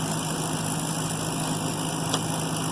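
The repaired engine of a New Holland 1400 combine runs at a steady idle nearby, an even continuous drone and hum with no change in pace.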